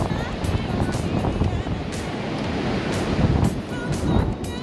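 Surf washes in continuously at Bribie Island beach, with breaking waves and gusty wind buffeting nearby, a full, rushing roar throughout.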